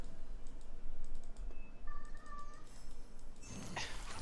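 A house cat gives a short meow or two in a room, fairly faint beneath clicking computer keyboard typing and gameplay sounds.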